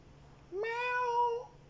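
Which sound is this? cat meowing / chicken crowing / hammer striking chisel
cat meowing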